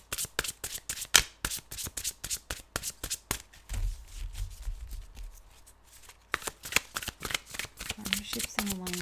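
Fairy Tarot cards by Doreen Virtue being shuffled, with rapid, close riffling and tapping bursts in a steady rhythm, pausing briefly midway before resuming, while a voice talks faintly underneath.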